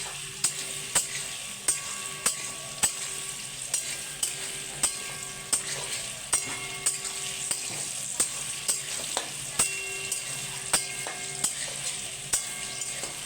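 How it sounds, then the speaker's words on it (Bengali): Papaya and potato pieces fry in a pan with turmeric, a steady close sizzle broken by regular sharp clicks and scrapes of a utensil stirring against the pan about twice a second, with no talk. "আমি হলুদ দিয়ে আর একটু নেড়ে চেড়ে ভেজে নেব।"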